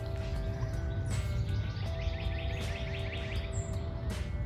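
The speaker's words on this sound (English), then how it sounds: "I hope you're enjoying the sounds of the birds" Birds chirp and call intermittently over a steady low rumble of background noise, their short bright notes scattered across the outdoor ambience.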